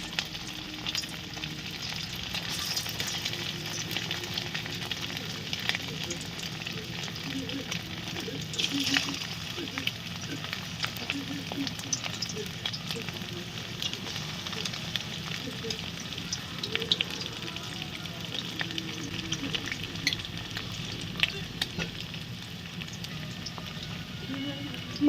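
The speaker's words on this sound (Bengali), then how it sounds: "এবার আমরা এই মাংসগুলোকে হালকা ফ্রাই করে নেব" Chicken pieces fry lightly in oil over a low flame, giving a steady, close, soft sizzle with occasional stirring scrapes, continuous throughout.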